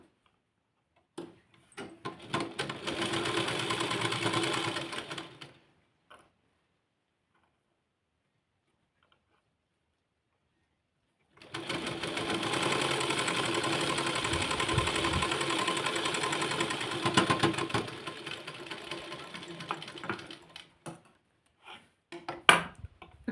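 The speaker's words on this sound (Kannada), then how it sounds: "ಈ ಸೈಡ್ ಒಂದು ಸ್ಟಿಚ್ ಹಾಕ್ತಾ ಹೋಗ್ತೀನಿ ನಾನು" A sewing machine runs a line of stitches along a hook strip, a close, rapid mechanical whirring in two bursts separated by a few seconds of silence, with no voices.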